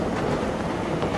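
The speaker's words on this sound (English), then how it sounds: "we're on this little train here" In-game train from Durango: Wild Lands rolling along, a dense continuous rumble with faint clickety-clack of wheels on rails, steady and loud throughout with no talk.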